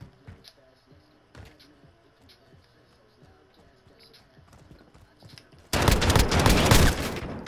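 Gunfire in the video game Modern Warfare erupts as a loud, dense burst of rapid shots after quieter clopping and clattering game sounds, with faint voices in the background.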